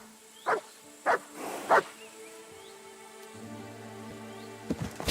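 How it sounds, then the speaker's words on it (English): A dog barking in the video game Kingdom Come Deliverance 2, three short barks about half a second apart, moderately close, followed by a low hum and faint trailing sounds. "Just so he doesn't bark the entire way to the Devil's Den."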